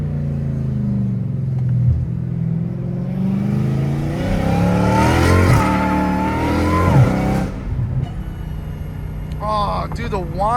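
A Dodge Hellcat Redeye with straight pipes and an aftermarket intake revs up with a deep, throaty intake growl, climbing and falling in pitch several times before settling to a rougher idle.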